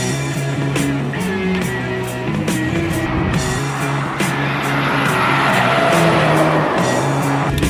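A van cruises down a road near an industrial edge of town, its engine hum and road noise loud and steady from inside the cab, with shifting engine tones throughout.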